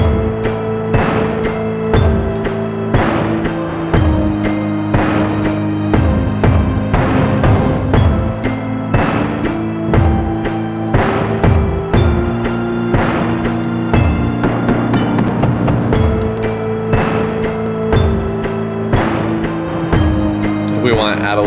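Sampled orchestral track built from Kontakt instruments, with timpani strikes and sustained tonal parts playing a simple, steady arrangement at full loudness throughout, no voices.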